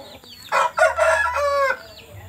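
An eight-month-old rooster with cluring-coloured plumage lets out a single loud, close crow that rises and holds before trailing off.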